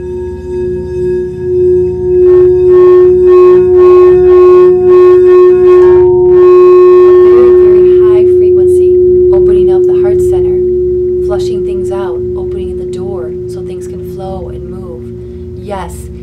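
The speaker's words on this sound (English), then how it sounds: "Also crystal bowls, crystal sound healing." A crystal singing bowl rings with a long, steady pure tone that slowly swells and fades, while someone talks softly over it.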